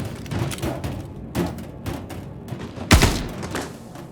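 Weapon fire in the Star Citizen video game, version 3.17.1, during a bunker mission: several muffled thuds and shots spread over a few seconds, with one louder, sharper blast near the end standing out above a low background.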